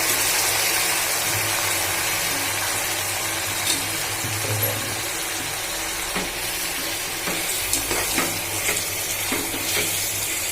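Masala-marinated meat, added to half-cooked onions, fries loudly in a pan, a heavy continuous hiss with scattered clinks and scrapes of stirring growing more frequent toward the end.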